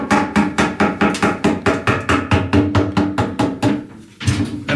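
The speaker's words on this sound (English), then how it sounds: "you just wail away on that with the hammer" A hammer strikes repeatedly on a possible explosive charge aboard the World War II submarine USS Cod, about twenty loud, close, evenly spaced metallic blows in steady rhythm that break off briefly near the end.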